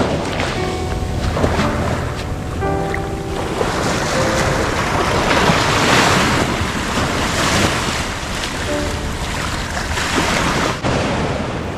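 Sea waves rolling onto a beach as the morning tide comes in: a continuous loud wash of surf with strong wind buffeting the microphone, and faint boat tones in the background.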